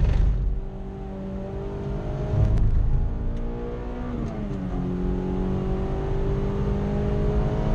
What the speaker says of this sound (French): On laisse profiter les spectateurs de ce petit tour de circuit et Sean aussi.